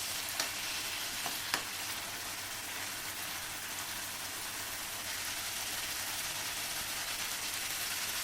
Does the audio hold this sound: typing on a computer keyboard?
no